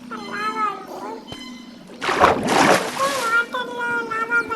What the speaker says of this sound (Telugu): వాటర్లో లావా పడితే అలా కావలసిన లావా